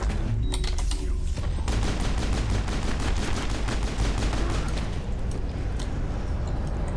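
Weapons blazing in a firefight in the video game Mass Effect: a loud, rapid, evenly spaced burst of automatic fire dominates the middle, surrounded by dense combat noise.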